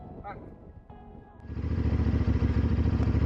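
A CFMOTO 450MT adventure motorcycle on an outback road trip starts up after a quiet stretch with faint voices, then its engine settles into a loud, steady, close-up throbbing drone.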